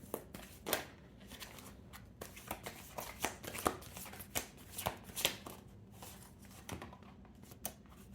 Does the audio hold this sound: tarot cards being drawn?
yes